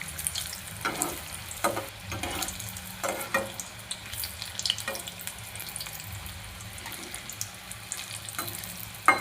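Vegetable chops deep-frying in hot oil, a steady crackling sizzle with scattered sharper pops and occasional clinks of a utensil, moderately close and with no talking.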